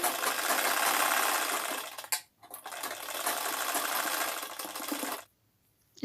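A sewing machine stitches a patiala salwar in a fast, continuous run, briefly stopping near the middle and then resuming before halting at the end, close and steady with no talk.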